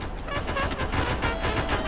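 Rapid automatic gunfire from the Free Fire video game, a dense continuous rattle of overlapping shots lasting the whole moment, steady and fairly loud with no talk over it.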